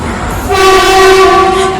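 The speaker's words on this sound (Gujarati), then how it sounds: "જો અમારી ટ્રેન આવી ગઈ છે" A train pulls into Maninagar railway station and sounds a loud, sustained horn that blares from about half a second in and holds steady to the end, very close and dominant.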